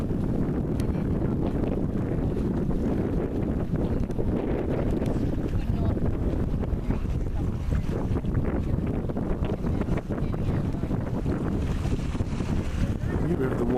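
Strong wind buffets a boat escorting a swim across the English Channel, with a constant loud roar and rumble of wind noise filling the whole stretch and speech mixed in.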